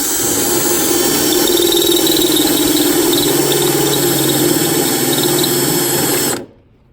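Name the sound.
spot weld cutter drilling through Chevy C10 cowl sheet metal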